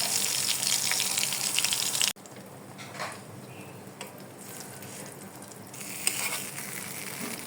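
Ash gourd slices frying in oil make a steady, fairly loud sizzle that cuts off sharply after about two seconds, then returns softer with faint crackles and a brief rise near the end.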